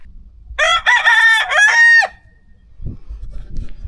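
A rooster crows once nearby, loud and drawn out in several rising and falling bursts, followed by soft rustling and faint background noise.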